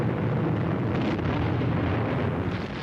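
Katyusha rocket launcher ammunition explodes after a direct hit in a 1944 wartime battle at Kovel, a dense continuous roaring rumble that stays loud and sustained throughout, with no speech over it.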